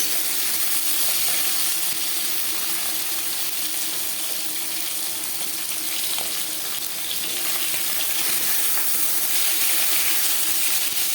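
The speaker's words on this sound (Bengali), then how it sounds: "মাছ একটা সাইড ভাজা হয়ে গেলে অপর সাইড উল্টে দেবো।" Rohu fish pieces fry in hot oil in a pan, giving a steady, loud, close-up sizzle that continues unbroken throughout with a dense crackling hiss.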